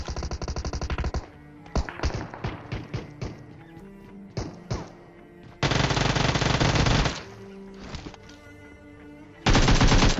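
Mobile PUBG battle-royale gunfire while fighting players armed with pistols: loud sustained automatic bursts alternate with a rapid string of single sharp shots, close and dominant, with no talk.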